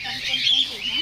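A lutino cockatiel in a zoo aviary gives shrill, scratchy calls, moderately close, over a murmur of background voices and other bird sounds.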